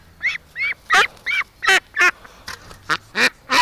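A duck honks and quacks repeatedly in short, loud, closely spaced calls, about a dozen in under four seconds, heard up close with no talk.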